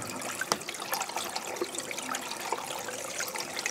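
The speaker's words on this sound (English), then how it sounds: "We have the water spigot going." Water runs steadily from a bathtub spigot, a continuous broadband splashing trickle at moderate level with a few small clicks and knocks, no voices.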